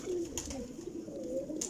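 A pet pigeon coos in low, drawn-out notes, faint and near, with a couple of light higher chirps in the background.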